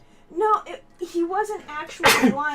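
A single sharp sneeze bursts out right after a short stretch of casual conversation, loud and close, with talking leading into it.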